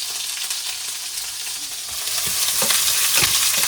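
A ladle stirs and scrapes through food frying in a pan, with continuous loud sizzling and crackling that grows busier toward the end.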